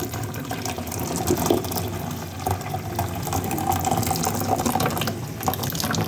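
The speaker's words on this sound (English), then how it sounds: "Taking the excess water from the Irish potatoes so as I can start mashing them" Hot water is poured off boiled Irish potatoes, a continuous splashing, draining pour close by that lasts throughout.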